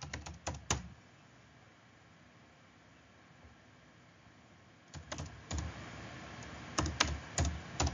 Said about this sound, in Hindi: एठी देखिबे मु टाइप करिछि